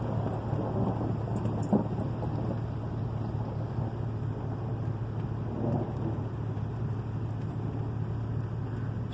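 A storm rolling in sends a steady wash of rain and wind noise with a low continuous rumble of thunder underneath, constant and fairly loud throughout.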